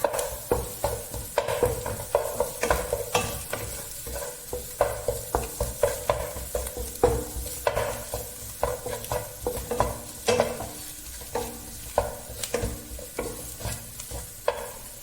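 Kothu parotta with pepper powder is stir-fried in a pan: a rhythmic series of sharp spatula scrapes and taps over a constant close sizzle, repeating quickly throughout.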